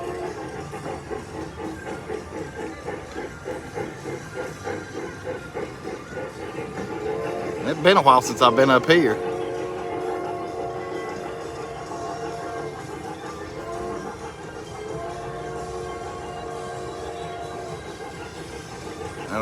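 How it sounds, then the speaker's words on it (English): A passing train rumbles and clatters in a short loud burst near the middle, with steady background noise and a person talking over it before and after. "They got the train going."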